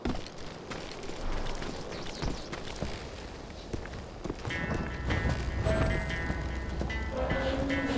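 A train in the video game Call of Juarez: Gunslinger, a steady rumble with clattering, knocking rhythmic beats and rising metallic clanks and squeals toward the end, no speech.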